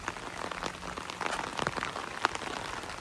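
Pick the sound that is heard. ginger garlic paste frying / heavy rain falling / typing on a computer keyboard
heavy rain falling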